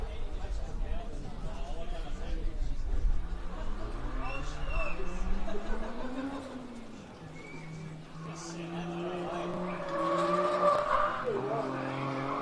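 Holden VE automatic drift car on a track at a pro-am drift series event, engine roaring and revving as it slides through the corner with tyres squealing, with commentators talking over the car throughout.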